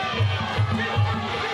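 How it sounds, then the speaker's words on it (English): An arena crowd at a fight cheering and chanting a fighter's name in a rhythmic pattern, a dense roar of many voices throughout the short stretch. "Crowd coming alive in the favor of Lonnie Lim, chanting her name"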